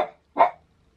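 A pet dog gives a single loud, close bark, cut off by a brief quiet gap and preceded by a fading earlier sound, with nothing else following.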